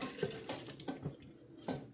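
Ginger and lime watermelon-skin juice poured into a container, a soft wet splashing stream broken into a few gentle surges, close and moderately quiet with no talk.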